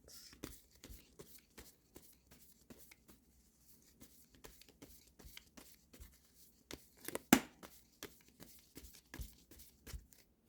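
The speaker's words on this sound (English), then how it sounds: "let me pull a couple more cards" Tarot cards shuffled and drawn by hand, giving soft, quiet riffling and light tapping taps in a steady patter, with one sharper snap midway, all faint and close with no talk.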